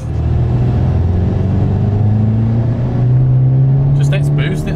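Skoda Octavia vRS tuned to 392bhp accelerating hard on boost, a loud sustained engine drone with rising pitch as it pulls through the gears, close up, with brief voices near the end.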